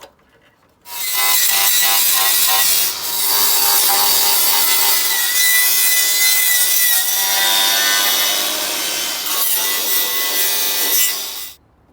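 An angle grinder works steadily on a Ford Focus ST170 during its restoration, a loud, continuous abrasive whine lasting about ten seconds with a brief dip near the start, close up and with no talk.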